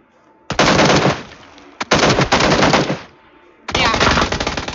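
Three long bursts of rapid automatic gunfire from a VSS rifle in a video game, loud and close, with short gaps between volleys.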